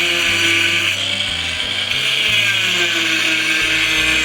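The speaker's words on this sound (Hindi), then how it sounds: "एक साइड, ये दूसरी वाली साइड और वहाँ तीसरी साइड की कटिंग की जा रही है।" A power tool cuts into a concrete roof at a house construction site, droning loudly and continuously. The motor pitch shifts a little as the blade bites, and no one speaks.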